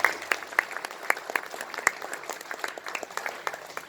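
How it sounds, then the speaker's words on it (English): An audience at a graduation ceremony applauds in a dense, steady patter of many hands clapping, moderately distant and continuing for several seconds without talk. "Let us all give them a round of applause for building that character in us."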